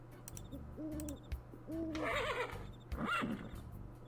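Horses whinny in the point-and-click game Darkestville Castle: several drawn-out, wavering neighs, the last two louder and more shrill, over a low steady background hum, with no speech.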